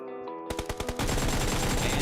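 Rapid automatic gunfire in a PUBG Mobile tournament match: a few separate sharp shots, then a dense sustained burst of loud, closely spaced rounds.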